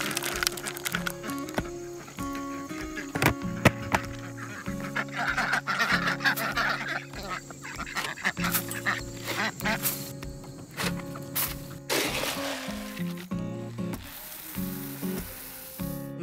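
Farm ducks quack loudly and repeatedly near the listener, harsh overlapping calls in irregular bursts, with a hissing background underneath.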